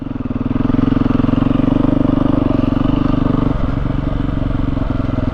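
A 2022 Beta 430 RR-S dirt bike engine runs close by, a loud, steady throbbing idle with a brief blip partway through.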